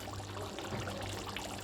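Mutton simmers in water in a kadai for a ghee roast, giving a faint, steady bubbling hiss heard close up with no voices.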